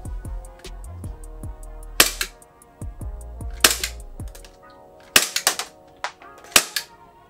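A Vorsk EU17 Glock 17 airsoft pistol fires BBs in a steady series of sharp, close snapping shots, each with a short crack and brief tail, spaced irregularly with a few quieter clicks between.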